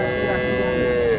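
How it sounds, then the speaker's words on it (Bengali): Crossbred cow at a cattle market in Naogaon, lowing in a steady, sustained moo that lasts the whole moment, fairly loud and close amid the murmur of the market crowd. "এখানে একটু দেখেন ক্রস গরু"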